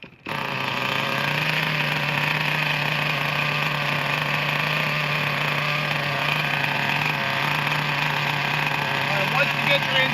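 A small nitro engine for a radio-controlled model runs steadily at a high, buzzy pitch, idling loudly and continuously for the full ten seconds with no pauses, outdoors in cold weather.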